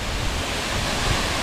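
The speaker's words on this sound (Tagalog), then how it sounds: "Yan ang lakas ng hangin" Strong wind and roaring water pour at the foot of tall Mahangin Falls, a dense, steady rush that fills everything evenly with no voices over it.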